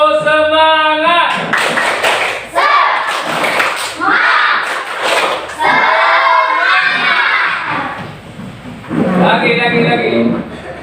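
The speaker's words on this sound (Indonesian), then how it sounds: "Tepuk semangat." Children in a classroom do a rhythmic spirit clap, bursts of patterned clapping and shouted chanting that alternate with a teacher's voice calling out cues.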